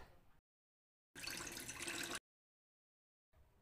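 Water is poured into thick cooking bathua saag with dal, heard as a single brief, faint splashing pour of about a second between quiet gaps.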